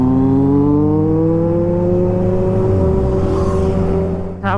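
A Kawasaki Z900 superbike with an SC Project exhaust and race fit runs close and loud, its engine tone rising smoothly as it accelerates through gears, with a short whoosh near the end.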